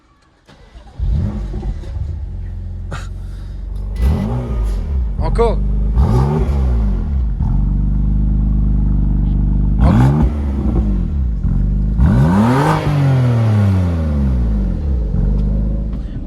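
A BMW M2 Competition starts after a brief quiet moment, then settles into a loud idle broken by several sharp revs that rise and fall, while people talk in French nearby.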